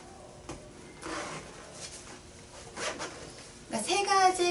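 Zipper on the canopy of a baby stroller, a few short quiet rasps followed by a louder, quicker pull at the end, with a voice speaking softly in the background.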